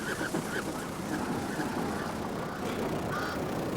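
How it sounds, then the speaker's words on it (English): A flock of white storks in Uganda calling, a busy chorus of overlapping honking, goose-like cries against a steady outdoor background, at moderate distance with no talk. "I'm not sure, but I think these are white storks."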